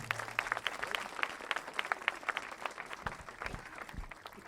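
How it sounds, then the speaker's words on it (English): Moderately quiet applause at the opening ceremony of a school performing arts center, with individual claps audible in a brisk rhythm that gradually thins out, plus a few low thumps toward the end. "Let's give Dr. Coonan a round of applause also."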